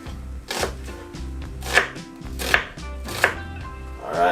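A medium-sized white onion is chopped on a board with a knife, close, firm thuds at a steady rhythm, roughly a dozen cuts, with a few sharper, louder strikes.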